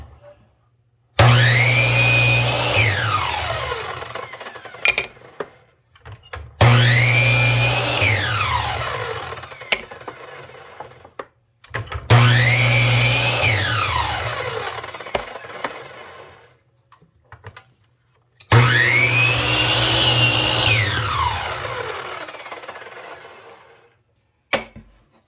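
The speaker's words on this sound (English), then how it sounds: "Okay, so I got my chop saw set at 6 inches here." A chop saw cuts wooden boards into 6-inch sections for a toy fence, four loud separate cuts, each a whining spin-up and bite into the wood that fades as the blade winds down, with short pauses between.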